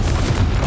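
A Confringo blasting spell from the Hogwarts Legacy video game goes off as a dense, loud low boom filling the whole short moment, with no voices over it.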